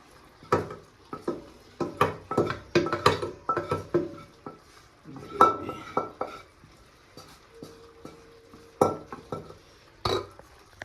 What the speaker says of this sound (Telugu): చికెన్ అంతా దీంట్లో వేసేసుకోవాలి